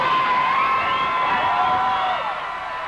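Military staff at an American hospital in Wiesbaden cheer and whoop to welcome a freed hostage, a dense crowd roar holding steady for the whole stretch with shrill high voices rising above it.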